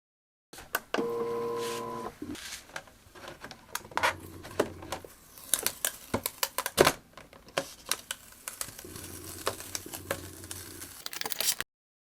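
Loklik iCraft cutting machine slicing intricate paper designs, a busy run of short clicks, taps and whirring motor bursts with brief tonal beeps near the start and a patch of steady hum later, close and moderately loud.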